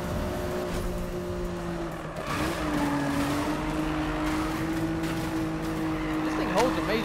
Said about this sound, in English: This thing holds amazing drifts, I'm just saying.